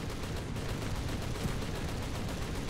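Dense, rapid gunfire rattles continuously as rounds strike the player's plane in an aerial dogfight in War Thunder.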